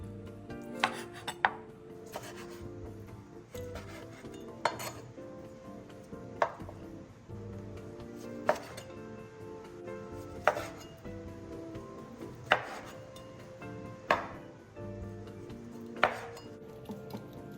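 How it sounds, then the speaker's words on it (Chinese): A knife cuts boiled, dried pork belly into 2–3 cm cubes on a cutting board, with crisp chops landing about every two seconds over soft steady background music. "清洗后的花肉沥干水分，再用厨房纸巾抹干，然后切成2至3公分见方块状。"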